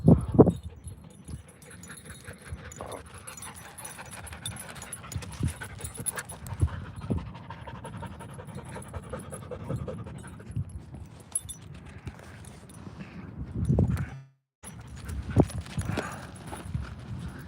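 Dogs pant rapidly and steadily nearby, with scuffling and jingling movement noises, then a brief pause before the panting resumes.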